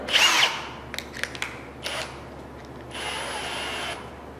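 A sharp burst of a power drill fitted with a hole saw spinning up, followed by a few light knocks and clicks, then a steadier whirring drill run that stops.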